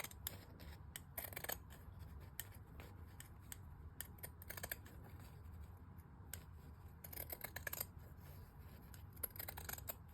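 Scissors snip steadily through fabric for a soft journal cover, close up, with repeated crisp cutting strokes and brief pauses over a faint steady background hum, no voices.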